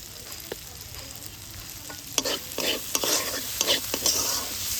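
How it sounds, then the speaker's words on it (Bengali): Fried vegetables with ginger, spices and a pinch of sugar are stirred in a pan for veg dal, a sizzling base under repeated close, rhythmic scrapes that grow busier in the second half. "সব কিছু খুব ভালোভাবে মিশিয়ে নেব।"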